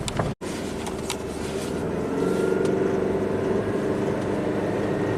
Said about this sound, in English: sounds like detonation